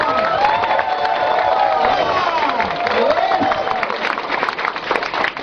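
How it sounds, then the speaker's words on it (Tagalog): An audience applauding and cheering at a company gathering, with loud sustained clapping under rising shouts and whoops from the crowd throughout. "Kaya palakpakan nyo na po yung AIM Global."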